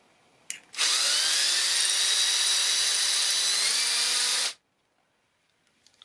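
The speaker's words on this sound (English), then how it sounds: "I'm gonna get a smaller drill bit" A small drill bit bores lightly into the old vial on a Starrett 98-8 machinist level with a loud, steady high-pitched whine for about four seconds, followed by quiet handling clicks.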